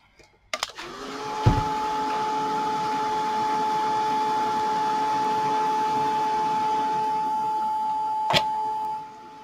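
A handheld heat tool melts embossing powder on a Halloween card, giving a steady motor whine and blowing hum that starts abruptly, holds evenly for about nine seconds with a brief click near the end, then cuts off.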